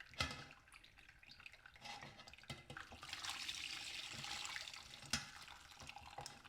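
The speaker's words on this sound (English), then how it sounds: "I'm going to be daring and just start pouring this right through that." Rabbit broth is poured through a strainer, a soft continuous liquid trickle and splash with a few clinks of utensils, close and fairly quiet.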